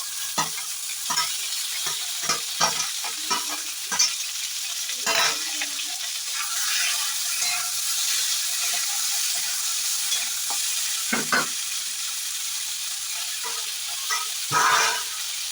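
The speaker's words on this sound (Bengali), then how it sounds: "ফোড়নটা হয়ে গেছে আমি দিয়ে দিলাম আলুর টুকরো টমেটোর টুকরো" Potato and tomato pieces sizzle in tempered oil in a pan, a continuous bright hiss with scattered spatula scrapes and stirring clicks, close up and without talk.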